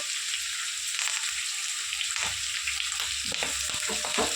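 Onions and curry leaves sizzle and crackle steadily in hot oil, close up, with occasional stirring scrapes and pops.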